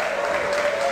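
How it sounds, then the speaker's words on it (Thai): A crowd applauds at a Muay Thai boxing match in Buriram, Thailand, a dense, loud, continuous wash of clapping with a steady tone threading through it. "เสียงปรบมืออื้ออึงไปเลยครับ"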